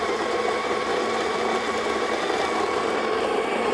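A grinder works through Mario Enero natural Geisha coffee beans, about 48 grams, giving a continuous, close, even whirring buzz that holds steady without a break.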